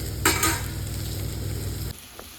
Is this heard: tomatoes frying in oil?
yes